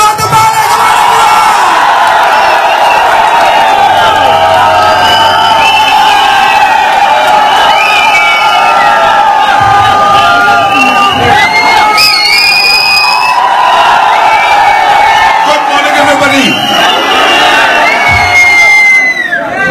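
Large crowd at a network-marketing carnival cheering, whooping and clapping for the managing director, a loud, continuous roar of voices and shouts with scattered applause and occasional high whistles sustained throughout.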